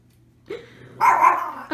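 A dog in a cage gives a short growl, then a louder drawn-out bark, close by, with a quiet hum underneath and no talking.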